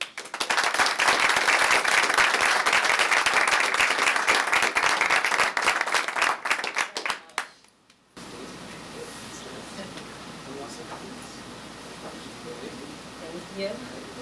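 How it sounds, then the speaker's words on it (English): A school board meeting audience gives three student achievers a dense round of applause that lasts about seven seconds and then cuts off, leaving a quieter room with faint murmurs. "Give them a round of applause."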